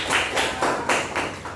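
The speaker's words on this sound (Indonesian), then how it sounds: "Tepuk tangan, kasih aplaus." Children in a fourth-grade classroom clap together in a rhythmic group pattern, about five even bursts of applause in quick succession, fairly close and moderately loud with no talking over it.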